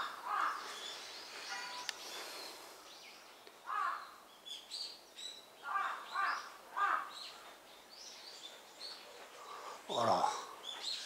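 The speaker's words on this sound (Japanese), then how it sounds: "ものすごいカラス上で騒いどんだけど、巣でもあんのかね。" Several crows caw repeatedly overhead in scattered, harsh bursts, moderately loud against a quiet background.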